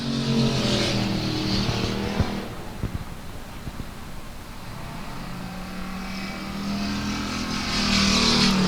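Stock race cars at South Texas Speedway roar through the turns, engines loud and droning, fading slightly mid-pass before swelling again as the pack comes closer.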